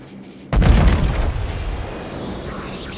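A USS New Mexico battleship's naval guns fire in World of Warships: a single deep, heavy boom erupts suddenly and then rumbles away slowly, loud and close.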